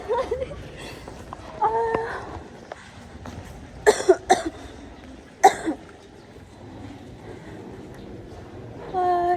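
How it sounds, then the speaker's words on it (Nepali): One person coughs several times in sharp hacking bursts between quieter stretches, close to the mic, with faint background noise and a voice at the end. "खोकी लागिरहेको छ"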